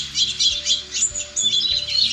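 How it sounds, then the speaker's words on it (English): Birds chirp and tweet outside at dawn in a steady stream of bright, overlapping calls, close and fairly loud, with no talking. "Birds chirp outside,"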